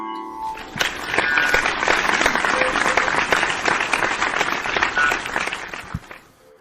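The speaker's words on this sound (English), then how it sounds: "oh, you're clapping" Live-stream audience applauding for a music session, steady dense clapping that swells in and holds for several seconds before stopping abruptly.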